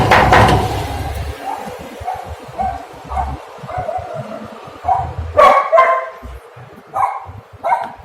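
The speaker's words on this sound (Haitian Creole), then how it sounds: "Il y a un chien tout près." A neighbourhood dog close by barks repeatedly in short, loud bursts with irregular gaps, some yips and whimpers among them, while a voice is faintly audible in between.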